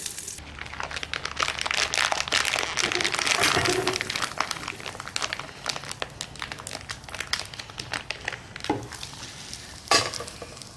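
Gnocchi sizzle and crackle in a skillet over a campfire, with scattered sharp pops and crinkles over a continuous frying hiss, and a few louder clacks near the end.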